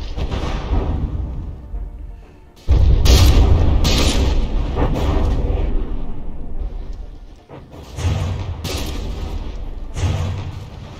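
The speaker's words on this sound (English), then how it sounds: "saw that shell ricocheted off the turret and then detonated with the time fuse" Naval shells in a battleship fight in From the Depths strike a turret, ricochet and detonate on a time fuse, giving loud, deep booming blasts in bursts separated by brief lulls, with no talking.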